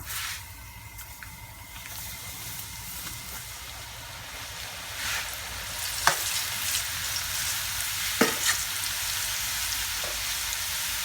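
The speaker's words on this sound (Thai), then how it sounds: "กระทะนะคะให้น้ำมันร้อนจัดนะคะแล้วก็ใส่เส้นนะคะลงไปทอดเลยค่ะ" Egg noodles deep-fry in very hot oil in a wok, giving a continuous bubbling sizzle with a few sharp crackling bursts and scraping stirs.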